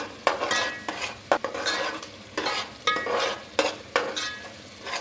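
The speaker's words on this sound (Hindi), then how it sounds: "ये देखिए, मसाला हमारा भून रहा है" Ginger-garlic spice paste for chicken karahi sizzles and fries in a pan while a spoon scrapes and stirs in repeated bursts, close and clear.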